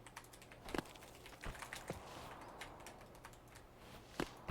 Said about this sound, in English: I feel like my keyboard clacks get louder as I get more stressed.